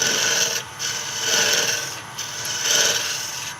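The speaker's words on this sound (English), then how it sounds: "we kind of run the edge of the parting tool down our shaft" A parting tool's edge scrapes along the spinning wooden shaft of a spinning top on a lathe, a continuous close raspy hiss that swells and eases in passes, with no talking.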